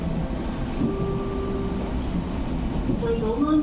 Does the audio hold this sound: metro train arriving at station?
yes